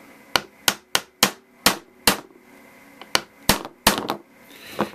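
Sharp metallic hammer taps strike a punch one at a time, driving a Williams peep sight onto a Ruger 10/22 rifle, about a dozen irregularly spaced blows, loud and close with short ringing decay.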